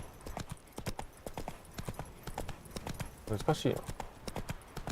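Roach, Geralt's horse in The Witcher 3, clip-clops in a steady hoof rhythm with a brief whinny midway, while someone speaks over it.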